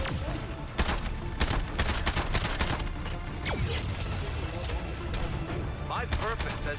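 Rapid volleys of kryptonite-bullet gunfire in the Suicide Squad: Kill the Justice League game, dense sharp cracks in bursts over continuous clatter, with voices speaking in between.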